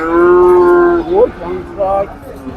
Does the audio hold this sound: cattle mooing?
yes